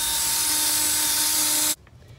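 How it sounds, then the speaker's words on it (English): A power drill bores through a thick 2x6 board, whining loudly and steadily up close for under two seconds before abruptly stopping. "now I'm just going to drill our hole."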